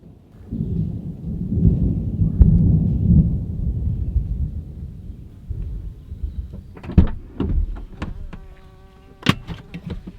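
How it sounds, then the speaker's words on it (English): A thunderstorm in a forest brings a long, deep rumble of thunder at the start, fading out, followed by scattered sharp cracks and a buzzing insect close by toward the end. "listening to it storm like crazy"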